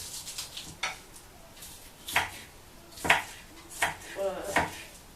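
Lettuce is sliced for a simple festive starter, a series of about six crisp cuts with knife taps at an uneven pace, close and moderately loud, with no talking.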